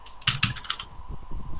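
Computer keyboard keys clatter in a short burst of several quick clicks during an osu!mania session, fairly close and alone, then fading into low room noise.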